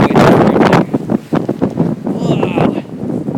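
Blizzard wind gusts hard against the microphone, loud and rough, in uneven bursts during a walk through deep drifting snow.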